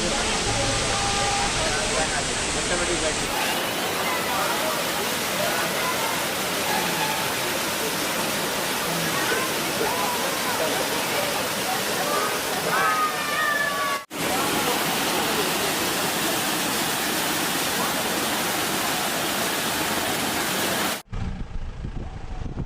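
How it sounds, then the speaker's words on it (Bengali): Loud, steady roar of a rushing mountain stream in North Sikkim, a dense continuous wash of water heard close up and alone, with brief cuts in the sound partway through and near the end. "দূর থেকেই জলের আওয়াজটা খুব ক্লিয়ারলি শোনা যাচ্ছিল"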